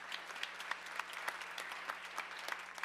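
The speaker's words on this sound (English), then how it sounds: "A round of applause for them." Applause for parish staff and volunteers at a diocesan feast day celebration for San Lorenzo Ruiz de Manila, a faint, steady patter of hand claps from a modest gathering heard from some distance, with no talking over it.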